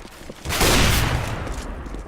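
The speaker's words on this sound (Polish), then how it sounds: "O, nietrafiony strzał." A single gunshot-like burst in the video game Overwatch, a missed shot, followed by a sustained noisy rumble that slowly fades.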